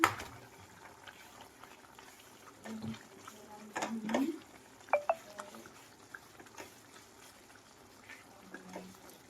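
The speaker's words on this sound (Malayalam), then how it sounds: "നല്ലപോലെ വെള്ളം തിളച്ച് വരട്ടെ" Water heats in a pot toward a boil before semolina goes in for upma, giving soft intermittent bubbling and a few louder splashes and clinks against a quiet background.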